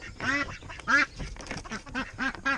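Ducks quack in a busy, overlapping run as they hurry out of a chicken coop door in the morning, loud and close, with no talk over them.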